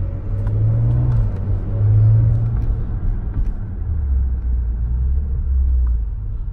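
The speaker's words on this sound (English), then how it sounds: "We got the window down so you can hear the exhaust a little bit." Maserati Ghibli SQ4 exhaust in sport mode at low RPM, heard from inside the car with a window down: a steady, deep engine rumble that swells slightly and settles again, loud and continuous with no talking.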